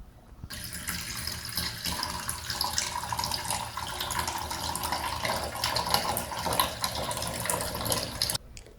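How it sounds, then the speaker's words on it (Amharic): Water runs steadily into a homemade hair-cream mixture for about eight seconds, a continuous close splashing pour with no talk. "ውሃ ልጨምርበት።"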